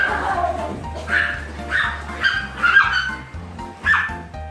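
Several French Bulldogs at a dog hotel bark in short, irregular bursts, about five sharp yaps spread across a few seconds, over a steady low hum.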